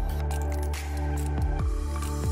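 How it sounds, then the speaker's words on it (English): Flour and water being stirred into a glue-like paste give off soft, wet squishing and scraping, a few distinct strokes over a steady low hum, close up and fairly quiet. "mixing until I get a glue-like consistency, and then a few drops of malt vinegar"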